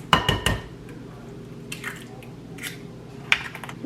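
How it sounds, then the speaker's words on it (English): Four eggs being cracked into a bowl: a quick run of sharp taps and wet squishes near the start, then softer scattered drips and clinks against the bowl, close and fairly quiet with no talk. "I'm going to add 4 eggs."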